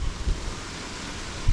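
Faint wind hisses steadily, with a few low gusts buffeting the microphone.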